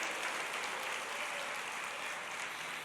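Church congregation applauding steadily together for about three seconds, a dense, continuous clapping that fills the room without a break.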